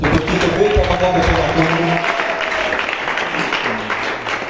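Audience applauding, a brief burst of clapping mixed with a speaker's voice and crowd murmur, fading after a couple of seconds.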